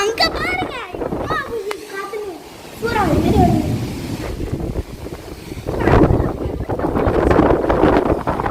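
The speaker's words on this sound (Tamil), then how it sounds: "காத்து தான் பயங்கரமா இருந்துச்சு" Strong gusty wind during a rainstorm buffets the microphone with a rushing, roaring noise that swells and surges, while children's excited voices and chatter sound over it.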